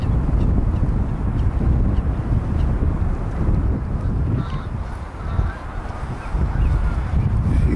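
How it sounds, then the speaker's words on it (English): Geese honk repeatedly in a noisy outdoor flock at a birdwatching site with gulls and black swans, calls overlapping against steady wind buffeting the microphone. "Geese going off."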